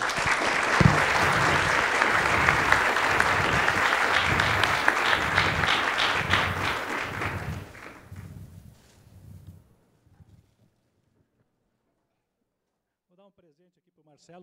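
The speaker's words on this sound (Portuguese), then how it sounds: "Palmas para o Marcelo, então." A seated audience at a mathematics and social inclusion talk gives Marcelo a sustained round of applause. Steady, full clapping holds for about eight seconds, then tapers to scattered claps and falls silent, with faint voices at the very end.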